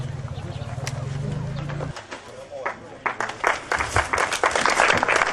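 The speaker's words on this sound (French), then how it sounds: "Ok, on applaudit." Applause breaks out at an inauguration ceremony for an agricultural school, rising into a dense patter of clapping after a low steady hum at the start, with a voice speaking nearby.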